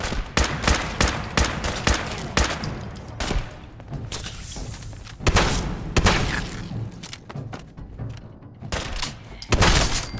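Loud gunshots from a Fallout 4 firefight come in bursts of rapid fire, broken by heavier booms and thuds and by short quieter pauses.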